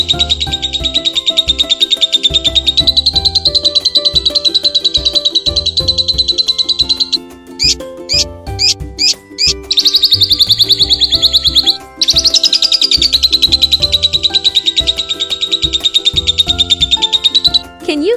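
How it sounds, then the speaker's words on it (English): A budgerigar chirps in a high, continuous twittering that fills the whole stretch, briefly breaking into a few quick separate chirps midway, with music playing underneath. "It is Budgie bird."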